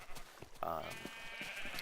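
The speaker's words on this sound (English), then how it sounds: "now this is my sheep farm" Minecraft sheep on a sheep farm give a short bleat, one clear call near the middle, with quiet talk and faint game ambience around it.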